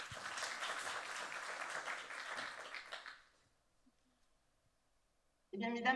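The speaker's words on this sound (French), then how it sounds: "on peut l'applaudir même si elle est loin." Conference audience applauding, a dense patter of claps that fades out after about three seconds, followed by near silence and then a sudden burst of sound at the end.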